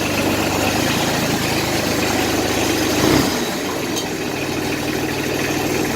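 A Kubota L295DT tractor's diesel engine runs at a steady idle with an extra knocking noise, a close, continuous low rumble with a brief louder thump partway through.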